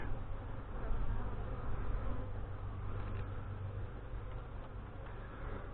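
Honey bees buzz loudly and continuously around an open hive during a late-April inspection, a dense, close droning hum with no talking.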